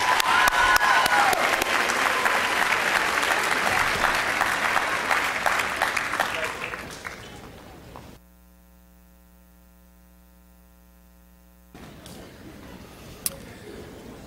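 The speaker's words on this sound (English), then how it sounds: "Give them a round of applause" An audience applauds a college speech and debate team at an evening showcase, brisk clapping fading over several seconds, followed by a stretch of near silence with electrical hum.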